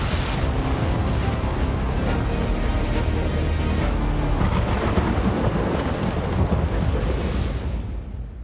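Deep rolling thunder from the Thunder Matrix skill in the Project Bang Bang video game, a sustained loud rumble with rain-like hiss filling the whole stretch before fading at the end.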